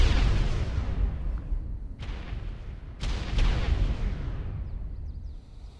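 Video game explosions from Call of Duty zombies on the Ascension map, with grenades bursting in a loud, continuous rumbling barrage and sharp blasts near two and three seconds.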